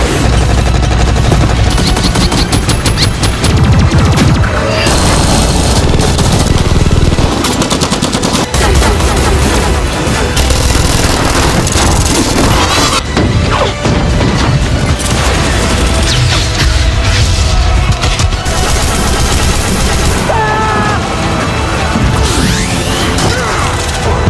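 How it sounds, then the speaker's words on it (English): Sustained heavy automatic gunfire from attacking drones in an alien-versus-human war battle, with dense rapid bursts, booms and crashes filling the whole stretch loudly and continuously, no pauses. "无人机开火！"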